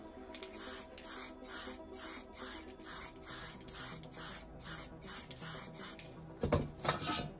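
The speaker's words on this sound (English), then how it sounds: "So I'm going to be spraying this lightly." Spray paint hisses from an aerosol can onto glass in a series of short, rhythmic bursts of roughly even length, close and fairly soft, with a louder clatter near the end.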